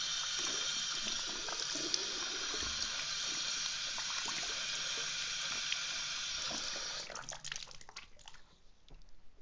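Water runs steadily from a bathroom tap for several seconds while someone rinses their mouth, then breaks into irregular splashing and sloshing near the end.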